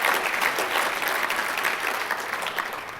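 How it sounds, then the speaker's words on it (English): Audience applause fills the room, a dense, steady wash of clapping that tapers slightly toward the end. "How about a round of applause for Grandpa Loconte?"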